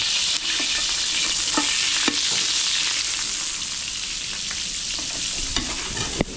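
Seafood mix with garlic and onion frying in butter in a pan, a steady loud sizzle with intermittent scrapes and clinks of a utensil stirring, no talk.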